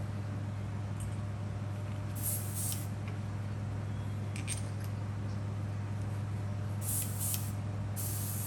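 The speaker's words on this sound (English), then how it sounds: "right now I'm using just thinner, straight out of the airbrush" An airbrush sprays plain thinner in steady, faint hissing bursts, with short louder puffs of air, over a constant low background hum.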